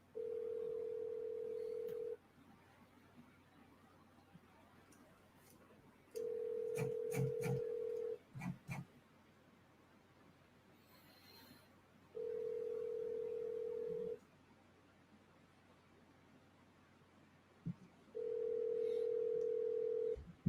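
An outgoing phone call rings back during a commercial real estate call, a steady ringback tone that sounds in two-second bursts separated by about four seconds of quiet, repeating four times, clear and close.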